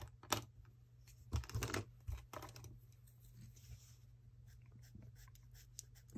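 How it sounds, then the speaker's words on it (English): A pencil shades graffiti letters on paper in short bursts of scratchy scribbling strokes separated by pauses, close and fairly quiet, with no talking. "Do the same as I've done up here with a pencil."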